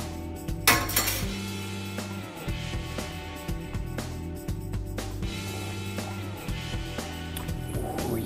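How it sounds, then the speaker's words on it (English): A metal spoon stirs Irish cream coffee with brown sugar in a cup, giving light ceramic clinks and scraping over a steady low hum, with one louder clink near the start. "Once it's all added, stir everything up"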